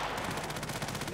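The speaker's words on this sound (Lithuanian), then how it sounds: "kai vinčką šaudo." Dense rapid rifle fire rattles in a continuous fast burst in the online shooter Contract Wars, loud and close throughout.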